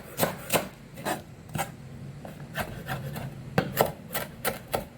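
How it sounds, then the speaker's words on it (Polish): Celery leaves being chopped with a knife on a wooden board for soup, a steady run of crisp, close knocks at an uneven rhythm, with no voices. "to pokrójmy jeszcze liść selera"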